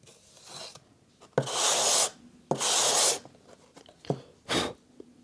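Wall filler being sanded by hand, three or four firm rasping strokes of varying length close by, separated by short quiet gaps, with no talking.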